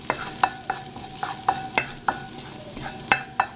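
Garlic fries in a pan for a Thai green chicken curry, a soft steady sizzle punctuated by about a dozen sharp, irregular knocks and scrapes of a wooden spoon stirring against the pan, close and clear.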